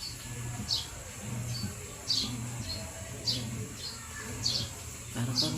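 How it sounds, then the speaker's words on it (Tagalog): Short high bird chirps repeat every second or so over a low steady hum, with a few softer calls in between, moderately distant outdoors. "Parang probinsya vibes kasi may mga ibon."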